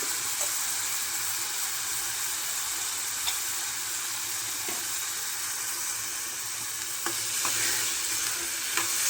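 Sprouted moth beans (matki) sizzle in a hot pan for a Maharashtrian usal while being stirred, giving a steady close hiss with occasional soft scrapes and clinks of the spoon.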